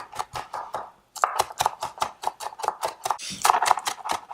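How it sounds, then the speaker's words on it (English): A kitchen knife chops scallions finely on a cutting board in a fast, even rhythm of crisp taps, close and loud, pausing briefly before continuing, with no voices. "Then I'm going to use my knife and chop them up more finely."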